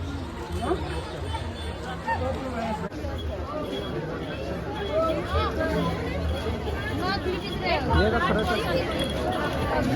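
A busy crowd at a Ram Navami village jatra in Belapur, a steady dense babble of many voices with footsteps and bustle all around, close and continuous throughout.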